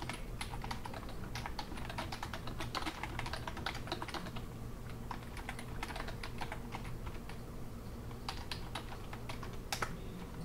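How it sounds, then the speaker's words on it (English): Steady, fast typing on a computer keyboard to enter a chat message, dense continuous key clicks close to the microphone with short pauses between bursts, no talking. "So you type in a chat message."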